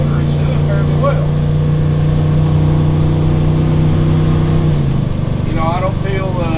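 Gas engine of a 2005 Fleetwood Pace Arrow 36D, a 37-foot Class A motorhome, drones steadily under load while climbing a hill, a deep continuous hum that shifts pitch near the end, with someone talking over it.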